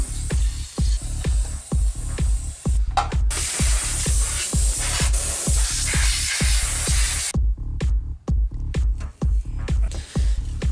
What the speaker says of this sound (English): I'm using spray paint